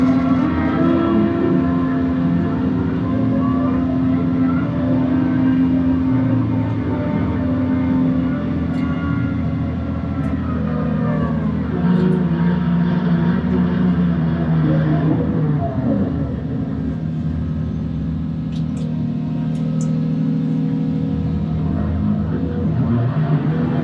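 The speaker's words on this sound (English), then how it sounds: "So now I can simply send the carriage out." A logging yarder sends its carriage out along the skyline, a loud, continuous diesel drone with steady mechanical whine and gradually shifting pitch, sustained throughout without pause.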